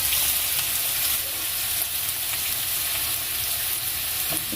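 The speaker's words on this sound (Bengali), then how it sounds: "আস্তে আস্তে যে মশলাটা কষানো হোক। এখানে এটা ভাজা হয়ে গেছে" Spices and masala sizzling steadily in a hot pan, a loud continuous hiss and crackle throughout with a faint clink near the end, no talking.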